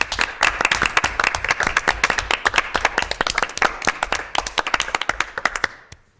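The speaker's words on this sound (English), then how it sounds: "Please join me in a round of applause" An audience at a Lake Bluff public board meeting claps for teachers and school staff, a dense, steady round of applause that carries on for several seconds before tapering off.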